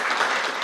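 Audience applause welcoming a poet onto a panel at a literature event, a brief burst of dense, steady clapping from a crowd.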